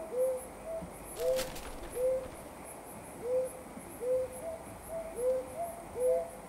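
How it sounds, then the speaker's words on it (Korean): A brown hawk-owl hoots at night in repeated, evenly spaced paired calls, clear and moderately near, over a soft hiss of insects. "다시 솔부엉이의 시간입니다."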